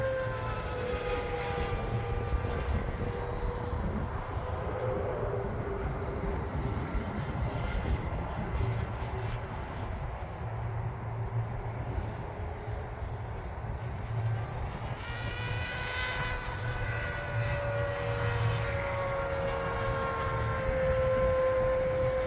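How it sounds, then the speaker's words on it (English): FMS 1100mm Voodoo 6S RC plane in flight with loose tape on the wheel wells, its motor droning and changing pitch as it passes, a fluttering buzz mixed in over outdoor wind rumble. "Yeah, that tape's making a hell of a noise."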